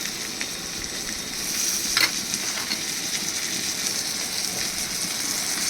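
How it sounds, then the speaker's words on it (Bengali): A spoonful of ginger, cumin and chili paste fries in a pan with tomato, giving a steady, close hiss and crackle, like light rain, with one brief sharp spatter near the start. "এবার এর মধ্যে আমি দিয়ে দিচ্ছি 1 চামচ আদা জিরে লঙ্কা বাটা।"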